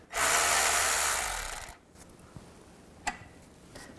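A 10mm socket backs bolts out of a splash shield on a 2011–2014 Chrysler 200, a loud, steady whirring burst of about a second and a half, then a few faint clicks and one sharp tap.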